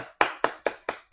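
Five sharp, evenly spaced hand claps ring out close and alone, each with a crisp attack and a short decay, like a single person clapping on the beat.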